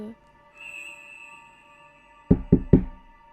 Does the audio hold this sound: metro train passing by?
no